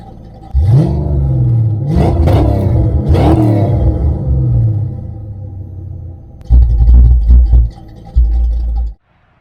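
A Fox-body Ford Mustang's 5.0 V8 engine revs hard three times in rising roars, then settles to a deep rumbling burble before cutting off abruptly. No speech.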